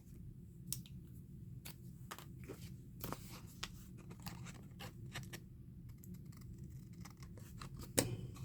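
Scissors snip through paper in a quiet room, a series of short, crisp cuts at an irregular pace, close and soft, with no speech.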